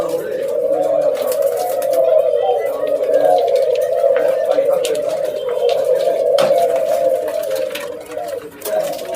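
Ringneck doves, including white silky doves, coo steadily in a dove farm, a continuous close throaty murmur of many birds layered together throughout.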